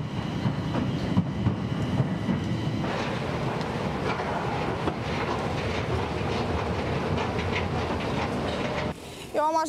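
A Bucharest metro train rides along with a loud, steady rumble of wheels and rails and faint rhythmic clacking. Near the end the roar briefly drops away and a high squeal of wheels rises.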